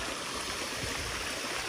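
A mountain stream in forest beside Thủy Liêm stream on Núi Cấm runs over rocks, a steady close wash of broadband water noise without pause, with no talking.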